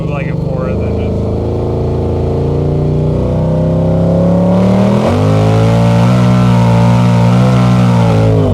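A 2000-horsepower Coyote-engined Mustang accelerates hard on a street, the loud, close engine roar rising steadily in pitch and surging louder partway through, heard from inside the car.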